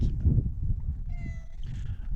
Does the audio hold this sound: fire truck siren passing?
no